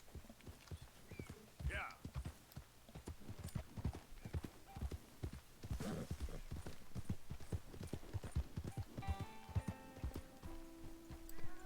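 Horse hooves clop steadily in a fast rhythmic gallop in a video game, close and prominent, with a brief whinny and scattered game sounds, ending with a sustained tonal effect.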